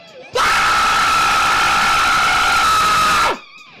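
A loud, sustained scream drenched in reverb holds steady for about three seconds and then cuts off abruptly, with quieter talk-show background voices heard before and after.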